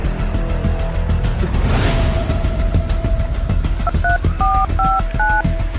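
Telephone number being dialed, a quick run of about six or seven short beeping keypad tones near the end, heard over a loud continuous rumble and passing-car whoosh.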